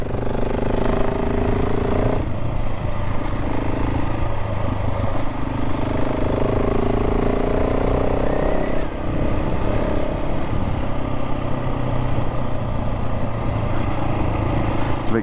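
A 2024 KTM 690 SMC R single-cylinder supermoto engine runs loud and steady while riding, a continuous throbbing drone with slight shifts in pitch, heard alone without talk.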